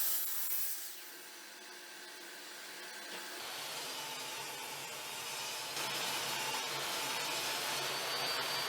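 A table saw rips wood pieces, cut from long boards into shorter lengths for a wine rack, producing a rising, sustained whine and rasp that builds and holds steady to the end, with no voices.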